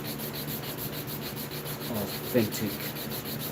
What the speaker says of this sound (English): We're going to sand this all the way down to these first two circles.